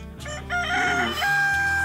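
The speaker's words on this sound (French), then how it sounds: "j'ai mis 10 ans à apprendre à mon coq à chanter avant l'aurore" A farmyard rooster crows before dawn, one long loud close crow rising and holding, with some clucking at the start.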